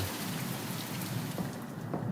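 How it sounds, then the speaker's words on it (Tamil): Steady, dense rain patters throughout the horror game The Mortuary Assistant, a loud continuous wash of drops with faint low rumbles and no voices. "எங்கே மழை சவுண்டு ஓவராக கேட்குது"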